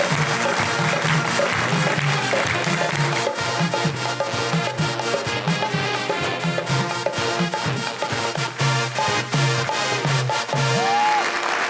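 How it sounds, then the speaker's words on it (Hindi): A studio audience on an Eid-ul-Adha TV special applauds as a guest is welcomed; steady crowd clapping runs throughout, blended with loud accompanying music and rhythmic beats. "प्लीज़ आप लोगों की भरपूर तालियों में वेलकम करेंगे आमिर गुलाम अली।"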